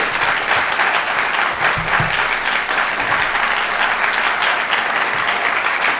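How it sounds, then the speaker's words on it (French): Sustained applause from an audience in a hall during a Burkina Faso television entrepreneurship pitch competition, a steady dense wash of clapping that holds evenly for the full length. "faire 10 secondes d'applaudissements pour nos jurés"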